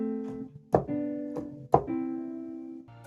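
A low sung vocal harmony of sustained, steady pitched notes is layered into a homemade soul sample, punctuated by a few sharp thumping hits, and ends with a brief new tone.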